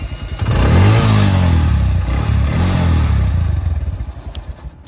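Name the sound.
modified Suzuki GS150 SE motorcycle engine running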